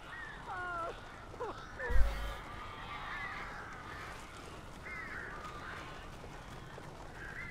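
Crows caw repeatedly in the Alan Wake video game, a few harsh calls standing out over a quiet, hissing outdoor ambience, with a brief thump partway through.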